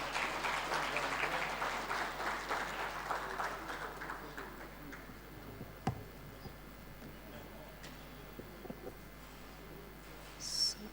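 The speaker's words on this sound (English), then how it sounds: "Let's clap for them again." Audience clapping at a research and innovation symposium, steady applause for the first few seconds that gradually fades, followed by quiet room tone with a few faint clicks.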